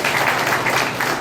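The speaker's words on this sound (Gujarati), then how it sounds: "એક વખત જોરદાર તાળીઓના ગણગણાટથી સ્વાગત કરીએ છીએ" A crowd claps in welcome for guests at a peace committee meeting in Nadiad, Kheda, held ahead of Muharram; steady, dense applause sustained at an even level across the short span.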